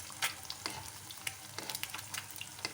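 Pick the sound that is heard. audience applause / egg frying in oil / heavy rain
egg frying in oil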